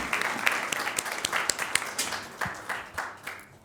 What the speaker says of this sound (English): let's have a round of applause for the Northwest Junior ROTC